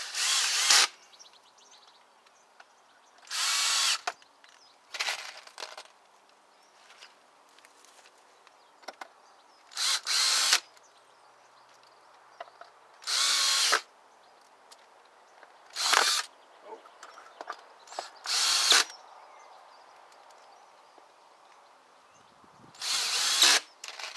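Cordless power drill driving screws to fix a hinge onto the back of a wooden garden structure, in short high-pitched whirring bursts with quiet pauses between them, heard close up.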